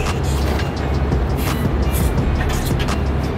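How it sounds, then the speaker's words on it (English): Rear-mounted turbo Ford Ranger time-attack truck engine running, a loud steady rumble with a rough low-end texture, heard close up. "All right, start it up. Let's hear this bad boy run."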